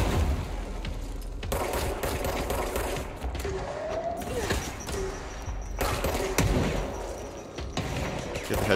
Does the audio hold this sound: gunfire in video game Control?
yes